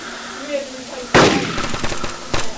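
Gunshots in a Minecraft war-raid game session: a loud close shot, a rattling burst of rapid follow-up fire, then another sharp shot near the end, after a quieter stretch of background game sound.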